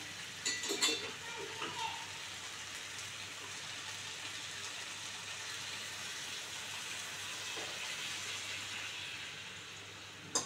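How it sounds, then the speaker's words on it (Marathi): Hot water is poured into fried dal tempering for a sprouted moth-bean dal and onion dish, raising a loud, continuous sizzling hiss that starts with a burst and then settles into a steady bubbling rush. "आता मी घालणार आहे याच्यामध्ये गरम पाणी।"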